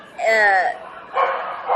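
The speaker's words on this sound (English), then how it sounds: "we are not outside, but that is a dog" A dog barks indoors in two loud, close bursts, a higher yelping cry followed by a rougher bark after a short pause.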